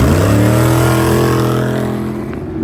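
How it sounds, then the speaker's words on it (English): Loud, close engine roar of an Ultra 4 off-road race car from Gomez Brothers Racing during the Vegas to Reno race, a sustained heavy drone that fades slightly as it passes. "We got another Ultra 4. Here's Gomez Brothers Racing."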